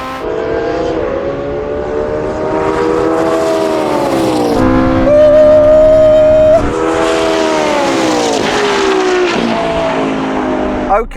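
Supercar race between a LaFerrari, a Porsche 918 and a McLaren P1, with a loud, close engine howl rising and falling through gear changes, its pitch sweeping up and dipping repeatedly across the run.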